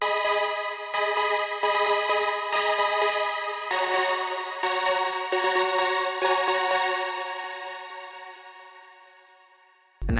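Fourth synth layer of a bigroom chord with a smooth, rich high end, bright sustained stabs in a steady rhythm followed by a long held chord that gradually decays, loud and without voices.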